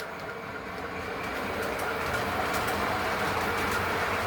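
An Alco diesel locomotive rolls past up close, a loud, steady rumble of rail cars and wheels on track with a rhythmic clatter that swells slightly as it passes, with no one talking.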